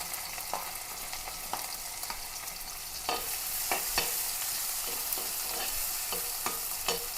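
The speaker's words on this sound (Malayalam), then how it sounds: "ആ ചട്ടി തന്നെ ഇത്തിരി എണ്ണ ഒഴിച്ച്, സവാളയാണ്, ഒരു ചെറിയ സവാള അങ്ങനെ ഇട്ട് കൊടുക്കാം." A small chopped onion fries in a little oil in a pan, giving a quiet, steady sizzle punctuated by regular stirring clicks and taps. The hiss grows slightly fuller partway through.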